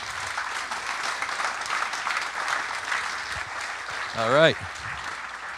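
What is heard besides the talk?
conference audience applause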